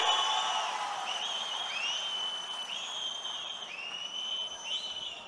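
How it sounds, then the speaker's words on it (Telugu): A large crowd at the Mahanadu 2025 political rally in Kadapa, heard as a broad, fairly loud wash of applause and cheering that keeps going throughout, with high whistles and whoops rising above it. "మీకందరికీ ఆమోదయోగ్యమైతే గట్టిగా చప్పట్లు కొట్టి మీరు కూడా ఆమోదించండి"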